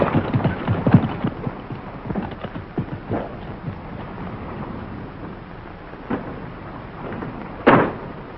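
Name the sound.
horses' hooves clip-clopping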